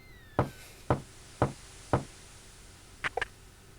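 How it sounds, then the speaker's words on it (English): Door knocking in the video game King's Quest 6: four evenly spaced, crisp knocks, followed after a pause by a quicker double rap, all alone against a quiet background. "knock on that door"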